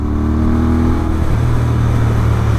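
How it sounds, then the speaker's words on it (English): Royal Enfield Interceptor 650 motorcycle fitted with an S&S camshaft accelerating hard, a loud, steady, slightly buzzy engine drone whose pitch shifts partway through, with no talk over it. "The cam makes it slightly buzzy when you pull like this."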